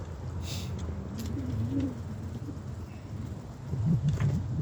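Soft, low cooing from birds drifts in over a steady outdoor hum, faint and a little distant, with a fuller burst of calls near the end.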